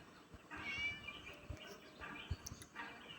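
A cat in the Scary Teacher 3D video game meows about three times. The meows are quiet and spaced out against soft in-game background noise.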